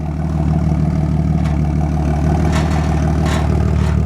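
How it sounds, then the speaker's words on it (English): A Jeep Wrangler 4.0L engine idles with a deep, throaty rumble from a resonator-type exhaust, a steady low burble close by, with no talking. "that kind of throaty exhaust with the little bumblebee kick to it is this pipe right here"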